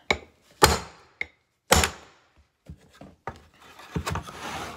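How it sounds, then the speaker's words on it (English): A hammer strikes a masonry chisel driven into the edge of a Masonite hollow door, sharp sparse whacks, two loud and several lighter, followed by scraping and rustling. "then I take a hammer"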